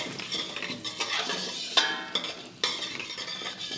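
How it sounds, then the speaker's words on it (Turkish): Celery and carrots are stirred into a pot of boiling chicken for a restaurant-style poached chicken, giving close swishing and clinking of a utensil against the pot over a constant bubbling, with a couple of sharper knocks and no talk. "Kerevizi havucumu da atıyorum içerisine. Şöyle hafif bir döndürüyorum."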